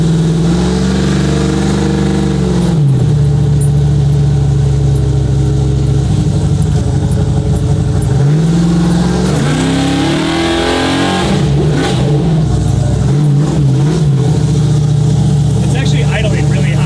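A 9.3-liter American car engine idles high with a steady, loud rumble, broken by a few throttle blips that swell and drop back, close to the microphone throughout.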